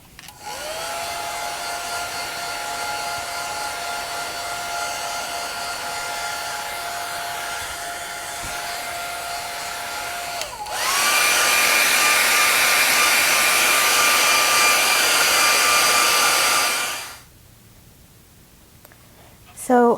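A handheld hair dryer blows steadily onto handmade fabric paper, a continuous whooshing drone that jumps to a louder, higher setting midway and then shuts off, leaving quiet room tone.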